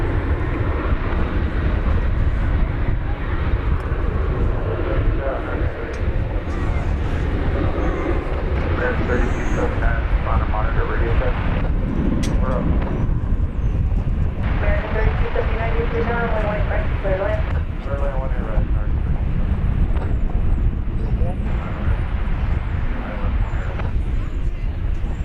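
An American Airlines jet at DFW airport, bound for Mexico City, producing a continuous low engine rumble beneath ongoing talk and radio chatter.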